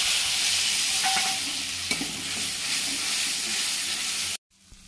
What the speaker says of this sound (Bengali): এগুলো এবারে দিয়ে মশলাটা একটু কষিয়ে নেব।